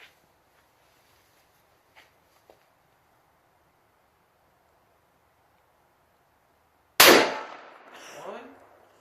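A two-barrel 9.4 Nagant rolling block pistol fires a single loud, sharp shot at an outdoor target range after several seconds of near silence with a few faint clicks, and the report rings and echoes briefly afterward.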